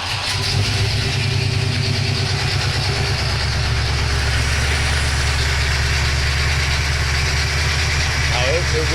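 A 1976 Cutlass with a 455 V8 and FiTech fuel injection idles steadily up close, a deep, even low rumble holding throughout with no talk over it.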